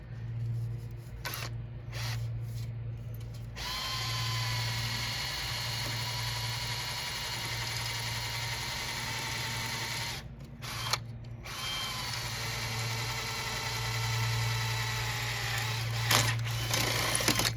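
A power drill bores through the sheet-metal control panel of a Sinistar arcade cabinet, a steady whining drone that runs for most of the stretch, broken by a few short pauses. It is close and loud, with no voices.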